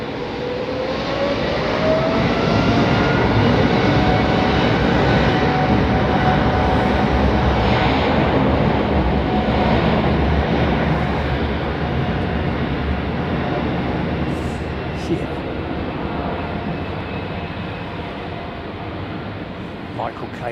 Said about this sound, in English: Loving the sound coming through in these wet conditions. Brilliant, isn't it? Full power departures.